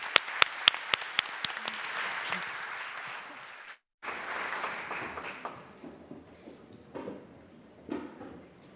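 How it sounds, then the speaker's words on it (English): Conference audience at an Africa Ireland economic forum applauding panelists, a dense burst of clapping that breaks off briefly, then resumes more thinly and fades under scattered room noise. "another round of applause for our panelists"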